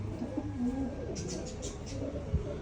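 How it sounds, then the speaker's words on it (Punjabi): Pigeons coo nearby in low, soft, rolling calls, a few overlapping phrases over a faint background, with a voice briefly audible. "ਆ ਇੰਨੇ ਕਬੂਤਰ ਆ"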